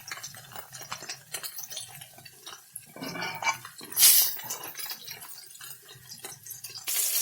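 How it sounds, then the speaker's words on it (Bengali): Rice tipped into a pot of hot water on a home stove while cooking a light papaya dish, heard as splashing and clattering against the pot amid faint kitchen clinks and running-water sounds. "আমি জলটা গরম হয়ে গেছে, চালটা দিয়ে নিই"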